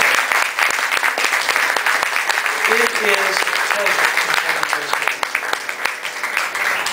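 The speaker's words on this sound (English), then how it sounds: "give these guys a huge round of applause" Audience applause, a continuous roar of many hands clapping, loud and even throughout, with brief speech faintly underneath.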